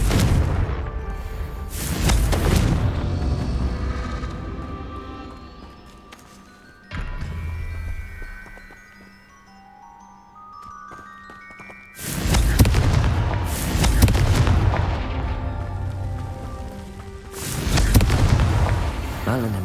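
Confringo fire spells from the Hogwarts Legacy video game burst in loud booming explosions, several heavy blasts in quick succession at the start and again near the end, with a quieter musical lull in between.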